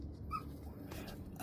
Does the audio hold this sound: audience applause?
no